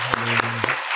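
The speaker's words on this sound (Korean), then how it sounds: "하나님께 영광의 박수 올려드립니다." A church congregation at a Sunday worship service gives applause, heard as a few sharp, loud claps over a sustained organ or keyboard chord.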